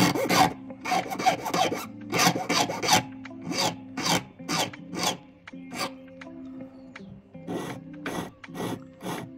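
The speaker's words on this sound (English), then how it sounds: "So we'll start by filing the ends." Metal file rasping back and forth across the cut ends of a ring during resizing, a steady run of about a dozen short, close strokes in an uneven rhythm with brief pauses.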